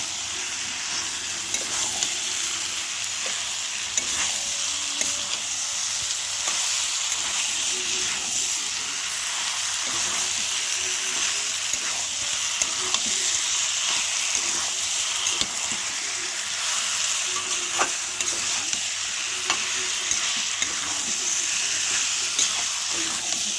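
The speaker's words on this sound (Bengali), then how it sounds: "সেদ্ধ করে রাখা এঁচড়কে এবার এর মধ্যে দিয়ে ভালো করে একটু নাড়িয়ে নেব" Boiled young jackfruit stirred in a frying pan with oil and turmeric: a steady, close sizzle and hiss with intermittent soft scraping strokes, no voices.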